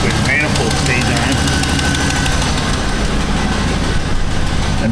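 A Chevy 2500HD truck engine runs loud and close, a dense, steady roar with rough knocking that holds without a break from start to end.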